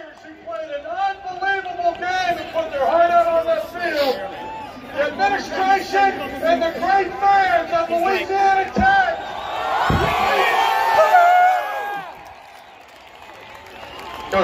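Home crowd at an Independence Bowl college football game, a loud stadium roar of cheering, whistles and shouts that swells and peaks midway, then eases off, with voices in the mix.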